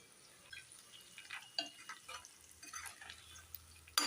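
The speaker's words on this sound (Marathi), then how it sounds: "आता आपल्याला मिरची आणि शेंगदाणेला पण छान तेलामध्ये फ्राय होऊ द्यायचं आहे." Green chillies and peanuts fry in oil in a pan for poha, a soft close sizzle with light crackles and faint stirring clinks, no voices.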